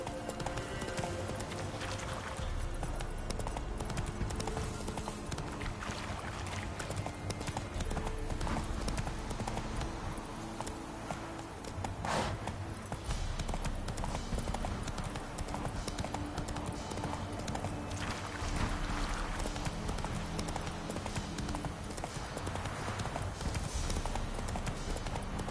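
Rhythmic clip-clop of horse hooves galloping in The Witcher 3 video game, steady and continuous for about twenty-five seconds, close and prominent.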